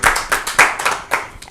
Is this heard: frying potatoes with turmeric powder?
no